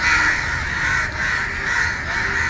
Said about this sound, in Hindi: कौओं की आवाज़ आ रही होगी आपको।